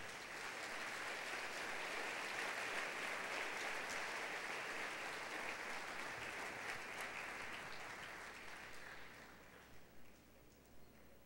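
A church congregation breaks into sustained applause during a Sunday service, dense clapping that holds steady and then thins out and fades to scattered claps at the end.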